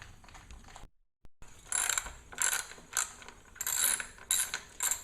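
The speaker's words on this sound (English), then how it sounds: "Let's take the pull starter off." On a Nissan 3.5 hp two-stroke outboard, the pull starter is being removed. A series of close, short ratcheting clicks comes in bursts, like a socket wrench turning bolts, after a brief silent gap, fairly quiet with no talk.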